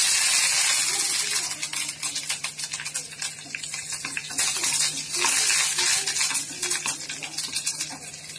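Curry leaves and mustard seeds frying in hot oil for mango rice and banana-flower thuvaiyal, a steady bright sizzle and crackle running throughout, close and fairly loud with a faint voice underneath.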